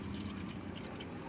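Engine oil drains steadily from a 2019 Suzuki Swift in a faint, continuous liquid trickle with no other sound.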